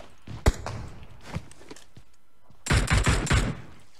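Gunfire in a battle royale video game: a few isolated sharp shots early on, then a dense rapid burst of automatic fire near the end, with quiet gaps in between.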